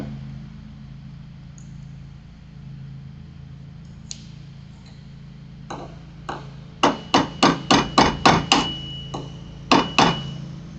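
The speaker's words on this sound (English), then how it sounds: "these are little tack hammers" Small tack hammers tapping on a carbon fiber leadout, first a few scattered taps, then a quick run of sharp, close metallic knocks over a low steady hum.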